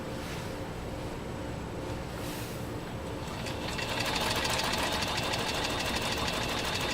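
A New Home 660 sewing machine straight-stitches through 10 oz leather at a very short stitch length, a quiet steady whir that turns into a faster, louder rattling run partway through.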